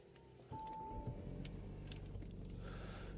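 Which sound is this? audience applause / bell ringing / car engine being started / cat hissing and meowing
car engine being started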